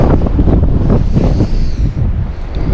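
Steady outdoor wind buffeting the microphone, a continuous low rumbling roar with gusty surges throughout, no talking.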